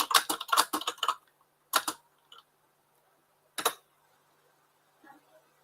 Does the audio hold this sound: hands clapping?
no